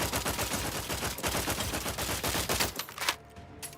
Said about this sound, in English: I kind of want to give this one a try, the assault rifle.